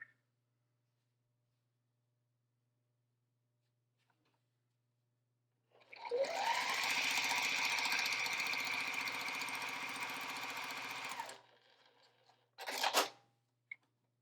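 A sewing machine joins quilt rows after near silence, whirring steadily for about five seconds before stopping, then a short second burst of stitching, close and fairly loud.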